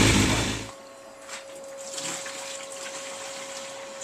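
Suzuki Hayabusa engine idling while water is pumped around its cooling system during a coolant flush, a steady low hum with a constant tone and gentle liquid rushing after a louder burst at the start.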